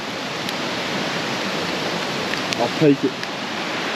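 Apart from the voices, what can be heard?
loud creek flowing beside a campsite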